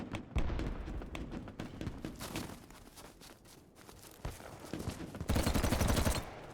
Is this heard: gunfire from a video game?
yes